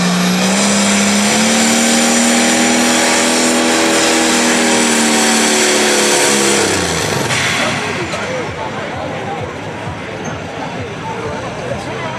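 A pulling tractor engine at a county fair tractor pull in Ohio roars steadily at high revs, harmonics sliding down as it strains, then gives way to a rough, crackling rumble and clatter.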